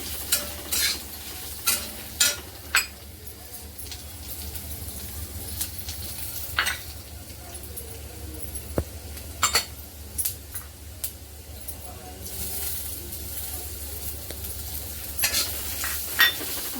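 Whole spices with bay leaves, green cardamom and mace dry-roasting in a pan, stirred with a spoon that scrapes and clinks in an irregular rhythm over a soft continuous sizzle, close and alone with no talk.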